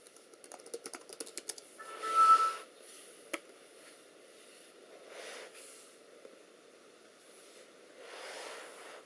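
Passcode typed on a laptop keyboard: a quick run of close, crisp key taps at the start, then a few isolated clicks among soft rustling handling noises, with no talk.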